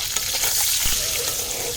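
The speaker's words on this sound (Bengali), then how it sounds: "এবার সেদ্ধ করে ডিমগুলো ভেজে নিচ্ছে।" Boiled eggs seasoned with salt and turmeric fry in a pan, a loud continuous sizzle with scraping stirs and a clatter near the middle, all close up with no talking.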